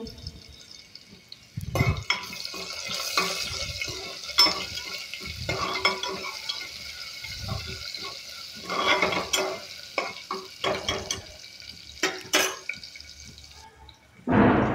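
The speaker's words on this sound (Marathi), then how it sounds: "हलवून घेऊया तेलामध्ये. व्यवस्थित लालसर होईपर्यंत परतूया लसूण." Garlic stirred and sautéing in hot oil in a home kitchen while a mataki curry is cooked: a steady close sizzle broken by repeated scraping stirs and a few louder knocks, with no voices.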